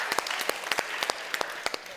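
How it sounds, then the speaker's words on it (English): An audience claps for teachers at an education summit, with sharp, uneven individual claps at a moderate distance, fairly sparse and soft, with no talking over them. "give them a massive round of applause"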